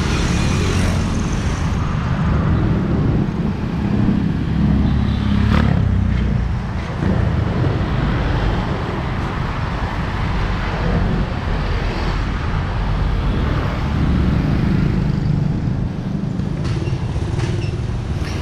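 Dense street traffic in the Philippines rumbles continuously nearby, cars and motorcycles passing in a steady roar with no pauses.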